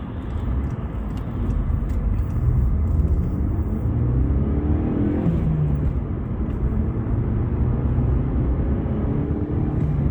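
Car driving in busy traffic on the A90 road in Scotland, heard from inside: a steady, loud engine and road rumble with no voices.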